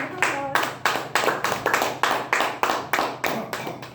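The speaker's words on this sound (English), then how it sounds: "Please give him a round of applause." Small group at a Toastmasters club meeting claps in a slow, regular rhythm, about a dozen distinct sharp claps spaced evenly, close and fairly loud with no talk.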